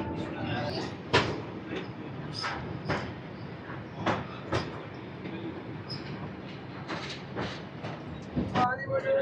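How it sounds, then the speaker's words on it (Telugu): The Visakhapatnam–Howrah superfast express (12868) rolls along the track with a steady rumble broken by sharp wheel clacks and metallic knocks, heard from inside the carriage. "ఒక్కసారిగా చాలా స్లో చేస్తాడు ట్రైన్ మాత్రం."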